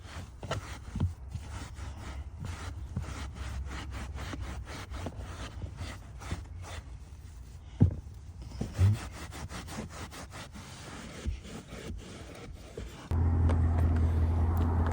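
Scrubbing a Mustang's carpet by hand, with steady, rhythmic back-and-forth rubbing strokes close up. Near the end a constant low engine-like hum sets in.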